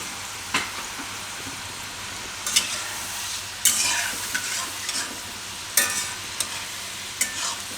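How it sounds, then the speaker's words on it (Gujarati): Soya sticks deep-frying in oil over a low flame, a steady close sizzle with a few sharp crackles and clinks scattered through, heard alone with no talk. "આને આપણે તળાવવા દેવું."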